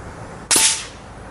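A single sharp shot from an FX Panthera Compact .25 calibre air rifle: a loud, crisp crack about midway through that decays quickly into a quiet background.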